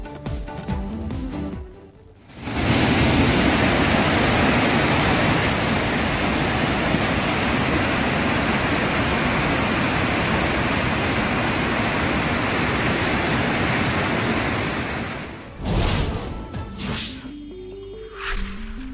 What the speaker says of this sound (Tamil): கன்னியாகுமரி மாவட்டம் திருப்பரப்பு கல் மண்டப பகுதியை மூழ்கடித்து செல்லும் தண்ணீர்